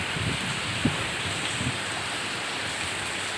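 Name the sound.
heavy rain falling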